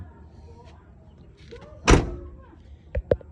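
The rear door of a 1996 Toyota Kijang SSX shuts with one sharp, solid slam, followed about a second later by two quick lighter thunks, heard close against quiet background.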